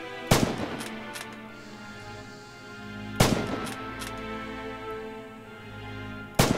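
Loud rifle shots from the World War II shooter Red Orchestra 2 during a target-practice tutorial, two sharp cracks about three seconds apart with a third starting at the end, separated by low ambient battlefield rumble.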